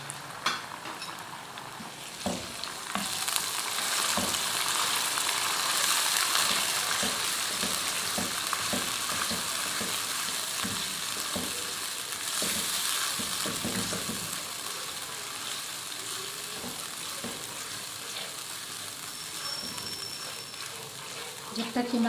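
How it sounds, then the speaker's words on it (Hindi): Spiced masala mixed with whisked yogurt sizzling and frying in a pan for kofta, a continuous hiss broken by occasional stirring scrapes, with someone speaking over it. "हमने मसाले को अच्छी तरह से भूनना है।"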